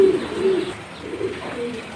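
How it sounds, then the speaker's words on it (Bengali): Pigeons in a loft of high-flying fancy breeds coo in low soft repeated phrases, close and clear, with no voices. "এত সুন্দর সুন্দর কবুতর, সব তো হেলদিও ভালো"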